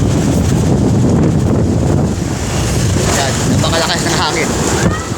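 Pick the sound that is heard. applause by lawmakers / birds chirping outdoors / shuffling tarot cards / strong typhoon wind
strong typhoon wind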